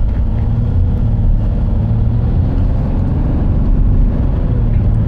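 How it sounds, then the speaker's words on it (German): A Mercedes six-cylinder diesel car engine idles steadily with a deep, even rumble and a faint knocking texture, close and constant, with no speech. "Mercedes 6-Zylinder, Diesel einwandfrei."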